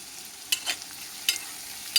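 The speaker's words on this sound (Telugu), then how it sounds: "ఉల్లిపాయలు ఇవి వేయించుకోవాలి మనము, కొంచెం ఎర్రగా కలర్ వచ్చే వరకు వేయించుకోవాలి" Onions frying in a pan with ginger-garlic paste for jowar khichdi, with a faint sizzle under a few separate scraping stirs of a spoon, spaced irregularly across the moment.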